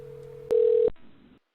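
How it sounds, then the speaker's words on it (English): A telephone tone sounds steadily, then cuts to a brief louder, purer tone before dropping to a faint muffled line hum, close and electronic, with no talk. "a phone ringing can be heard in the back"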